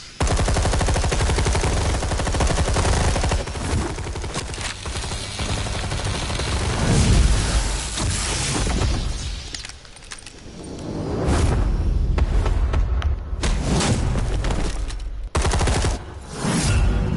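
Sustained automatic gunfire in a superhero action scene, loud and continuous bursts with short gaps, mixed with whooshes and booms, no talk.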